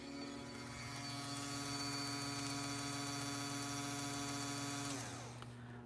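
A vehicle's electric fuel pump primes after the key is switched on, giving a steady whining hum for about five seconds before it cuts off and falls quiet.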